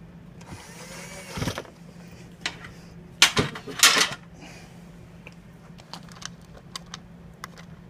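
A power tool drives screws into a TV chassis during a repair, with a few short whirring bursts around the middle and scattered light taps and clicks, close by over a faint hum.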